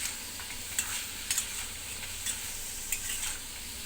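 Chicken meat and legs frying in a pan, a soft continuous sizzle with scattered sharper spits and pops throughout.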